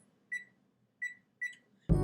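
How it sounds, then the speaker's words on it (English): A kitchen timer being set beeps three times, short clear electronic tones at irregular spacing in a quiet kitchen, followed by a sudden loud clatter at the end. "I'm setting our timer for 2 minutes."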